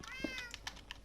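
Short meow from a cat in a video game, one brief cry over faint background sounds, with a few soft clicks around it.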